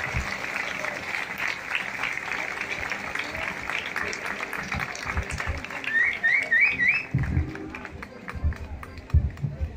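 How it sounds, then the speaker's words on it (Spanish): An audience at a folk peña tribute in Corrientes applauds in a steady, moderately distant patter, with a bird chirping briefly and some louder thumps near the end. "un aplauso grande para Mataco, para sus hijos, para su familia"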